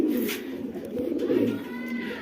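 A pigeon coos nearby in low, rolling throaty notes, clear and fairly loud against quiet surroundings.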